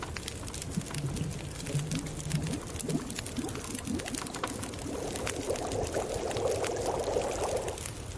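Water pours steadily in the video game The Long Dark with a gurgling, trickling wash that grows fuller toward the end, over continuous background ambience.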